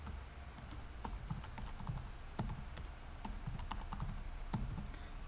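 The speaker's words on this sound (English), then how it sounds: "Type in a password and click install." Someone types a password on a computer keyboard, giving a run of quick, irregular key clicks that come close and clear, with small pauses between bursts and no talking.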